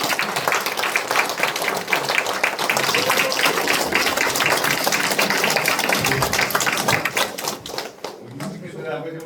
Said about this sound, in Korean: 한번 큰 박수로 환영해 주시면 어떨까요?